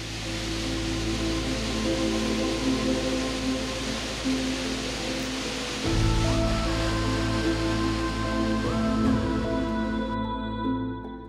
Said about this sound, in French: tombe de 62 mètres dans un bruit assourdissant en formant une chute d'une largeur de 25 mètres